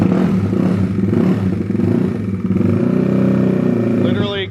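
A 2020 Honda Grom with a FuelTech FT450 and an oversized 750cc injector starts and runs, its steady engine drone loud and continuous throughout, ending with a brief rising rev.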